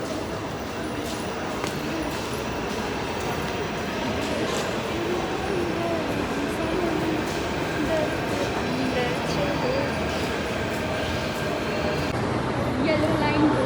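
Steady rumble and rattle of a metro train running on the Delhi Metro, continuous and fairly loud throughout, with faint voices mixed into the carriage noise.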